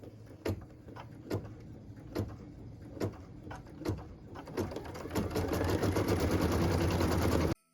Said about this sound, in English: I'm going to go ahead and put that into my machine, and then we will start stitching those windows